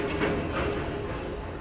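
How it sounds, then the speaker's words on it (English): A passing train gives a brief, fairly loud broadband rumble with faint rhythmic clatter, filling the whole moment without speech. "That's the train, my bad."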